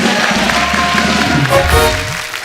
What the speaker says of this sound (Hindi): एक बार पिक्चर के लिए जोरदार ताली हो जाए